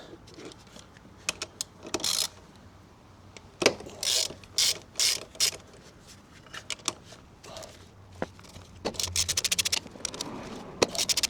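Ratchet wrench loosening the 14mm bolts holding the rear sprocket on a Honda CB125F motorcycle, giving repeated bursts of quick clicking, close and fairly clear, between pauses with light metallic handling noises.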